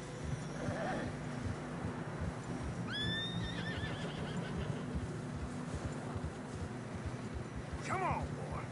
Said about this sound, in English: Horses are struggling.